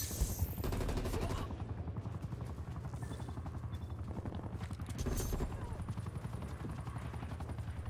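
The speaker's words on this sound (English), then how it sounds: "This helicopter's trying to shoot at me right now" A helicopter fires on the player in Black Ops Cold War, with rapid steady machine-gun bursts and rotor chatter running throughout at moderate level. A voice talks over the shooting.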